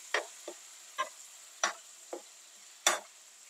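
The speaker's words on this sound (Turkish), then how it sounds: "Şimdi bu doğradığımız domateslerini üzerine ilave ediyoruz" Chopped tomatoes dropped onto caramelized onions in a pan with olive oil, giving six short separate splashy sizzles and stirring scrapes, quiet and close, with no talking.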